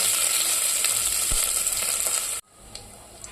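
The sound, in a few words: ginger garlic paste sizzling in hot oil with cumin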